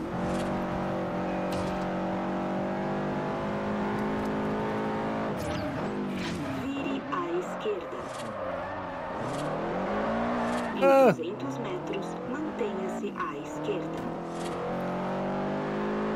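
Car engine revving and tires drifting in the racing video game Forza Horizon, a steady droning engine with pitch sweeps and a sharp skid burst near the end, under occasional speech.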